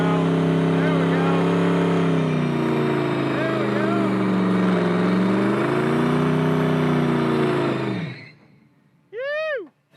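A 1980 Chrysler Mirada or 2001 Toyota Sequoia engine drones loud and steady while driving, rising and falling in pitch as it accelerates, then cutting off, followed by a brief excited voice.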